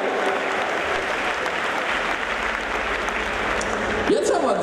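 Audience applause for a performer named Anastasia at a World of Warcraft costume-style stage event, a steady dense wash of clapping lasting throughout, fairly loud and close, with a brief louder burst near the end.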